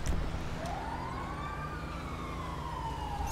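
In the video game GTA 5, an ambulance siren wails in a long rising and falling sweep over steady traffic rumble.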